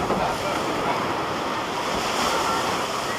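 Water rushes and splashes steadily on the Rocky's Rapids river rapids ride at Indiana Beach, a loud, continuous wash of spray close by with no talking.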